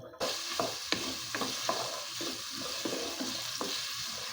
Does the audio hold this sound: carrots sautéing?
yes